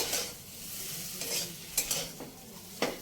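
Semolina and potatoes, moistened with a little water, are stirred in a hot pan, giving a low continuous sizzle broken by several scraping strokes of a spoon against the pan.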